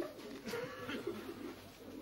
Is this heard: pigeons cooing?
yes